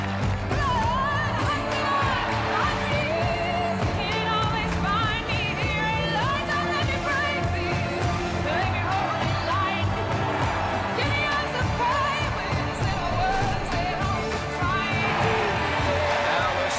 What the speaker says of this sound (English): The applause won't stop.